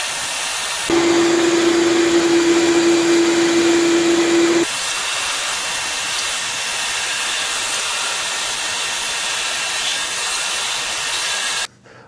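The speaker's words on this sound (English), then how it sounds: "I'm going to be running my shop vac, so I'm going to be wearing hearing protection" A shop vac used for workshop dust collection roars loud and close throughout, with a steady whine riding on top for the first few seconds, then drops to a slightly lower even drone before stopping abruptly at the end.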